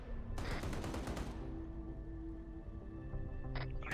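A .50 cal firing in a video game, a fast burst of heavy automatic shots near the start, then a ringing fade and a brief second burst toward the end.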